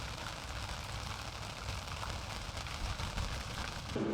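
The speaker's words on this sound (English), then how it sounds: "Raining hard now" Heavy rain drums steadily on a camper roof on the Venice lagoon. The patter is dense and continuous, with close crackling drops and no voices.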